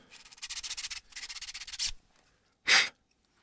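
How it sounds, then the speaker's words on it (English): Brisk rhythmic rasping of a sandpaper tube worked vigorously inside a 3D-printed part, two steady bursts of scrubbing strokes followed by a louder single scrape, close and alone. "vigorously shake your little sandpaper tube"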